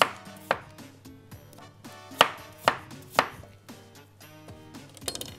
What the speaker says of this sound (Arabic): وبعد كده ببدا ان انا اجيبها شرايح